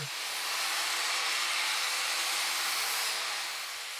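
An angle grinder cleans up clamped-together steel bumper brackets for a Jeep XJ Cherokee, producing a continuous loud, hissing high-pitched whine that holds steady throughout without pauses.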